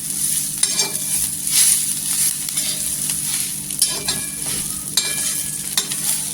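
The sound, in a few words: coriander stems and leaves roasting in masala with onions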